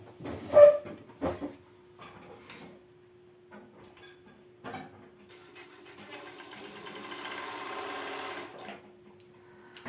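Sewing machine running a straight seam on boxer briefs fabric, starting with a few handling clicks and thumps, then a steady whirring stitch toward the end, close and moderately loud.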